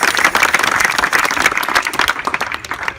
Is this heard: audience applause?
yes